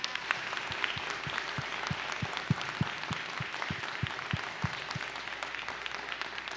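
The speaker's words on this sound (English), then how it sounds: "Will you please join me in giving a round of applause to our amazing panel tonight?" An audience at a justice forum in a Baptist church gives a panel a round of applause, the scattered, distinct claps sounding fairly quiet and a bit distant, steady and unaccompanied by speech.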